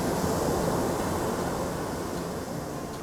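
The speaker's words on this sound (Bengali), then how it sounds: "ঢেউটা ভাঙছে।" Monsoon sea waves break on the beach at Digha, a loud, dense roar of surf with wind rumble, continuous and close, slowly easing toward the end.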